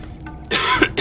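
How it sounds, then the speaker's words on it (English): A short, close throat clearing: a rough burst of vocal noise followed by a brief second rasp near the end, with quiet room tone before it. "Sorry, I had to clear my throat a little bit."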